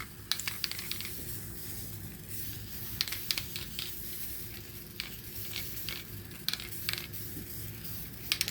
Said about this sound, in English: Just spray the adhesive everywhere it need to be.